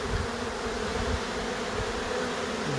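Dense, steady buzzing of a large mass of bees gathered at an opening in a wall during a cut-out, a continuous close swarm drone with no talk over it.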